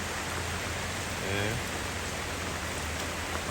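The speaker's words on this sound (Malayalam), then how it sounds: "ആകെ മഴ" Heavy rain pouring steadily onto a flooded garden plot, a dense constant hiss close by with a faint voice briefly under it.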